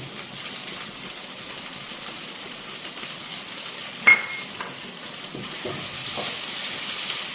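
Pakoda curry with chili powder, coriander leaves and kasuri methi heats in a pan, giving a soft steady hiss and light sizzle throughout, with one brief utensil clink midway.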